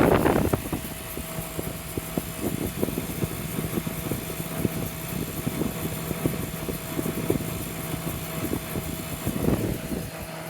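A vintage Montgomery Ward 22-pint dehumidifier runs with a steady motor hum and a whooshing fan, overlaid with faint irregular rattles and crackles from the old unit.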